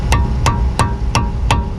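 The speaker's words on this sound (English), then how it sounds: "You hammer the Torx" Five evenly spaced metallic hammer strikes drive a Torx bit into a brake screw on a 2013 Honda Civic, ringing out close and loud over a low background hum.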